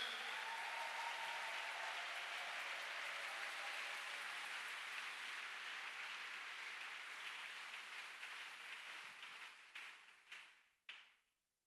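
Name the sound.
church congregation applauding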